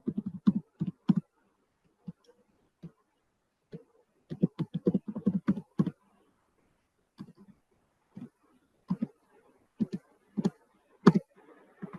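Someone types a command on a computer keyboard: clusters of quick, close plastic key clicks separated by short pauses, with a final heavier keystroke, in an otherwise quiet room.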